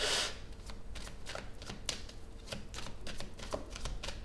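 Tarot cards being shuffled by hand at close range, starting with a riffle burst and followed by a quick, irregular series of crisp card slaps and flicks with no voices.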